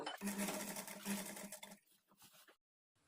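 A sewing machine stitches frills onto a children's lehanga in a short burst of rapid, even mechanical whirring with a steady hum that stops abruptly, followed by a few faint handling clicks and then near silence.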